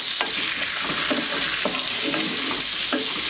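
Mixed vegetable garnish sautéing in hot oil in a pan, a continuous sizzle broken by repeated scraping stirs of a spoon, close and fairly loud with no talk.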